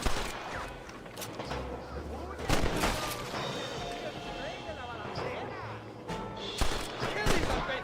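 Enemy gunfire crackles in the western game Red Dead Redemption, with repeated loud rifle and pistol shots, some near and some distant, over a constant battle din and shouting voices.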